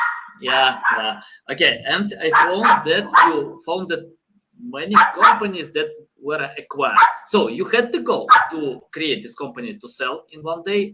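Dogs bark intermittently in the background of an indoor interview, mostly buried under a man's steady, continuous talking.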